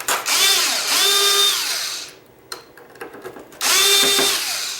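A power driver whirs in two loud, close bursts as it backs screws out of a hoverboard battery cover, its pitch sweeping up and down, with quieter clicks and handling noise between the runs.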